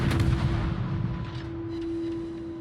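Warship guns fire in the naval video game World of Warships, opening up on an enemy battleship: a loud, dense boom of gunfire that rolls into a sustained rumble over a steady low hum, with no voices.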